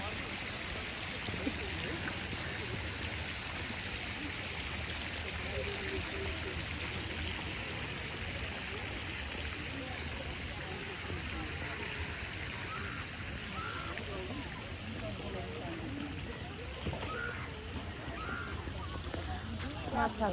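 Shallow water streams and trickles steadily in a peaceful outdoor spot where fish play, with faint voices mixed into the continuous wash of flow.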